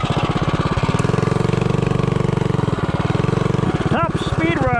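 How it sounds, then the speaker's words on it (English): Predator 212 Ghost small engine fitted with a Slipstream flywheel on a top speed run, a loud close continuous buzzing drone holding steady at high revs before rising and wavering near the end. "Top speed run, Slipstream flywheel, 212 Ghost."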